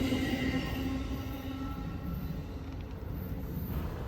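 A freight train rolls past at Syracuse, milepost 286, with a loud steady rumble of rail cars and a faint sustained horn-like tone early on, no voices over it.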